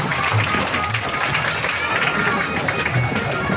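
Steady, loud applause fills the hall at a school enrollment celebration in Khasa village, Talegadh, with a continuous wash of clapping and a voice speaking over it.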